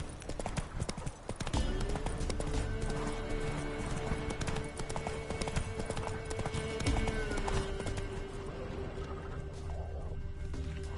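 The horse Roach gallops steadily in The Witcher 3, with quick rhythmic hoofbeats close and continuous for most of the stretch under ambient game sound.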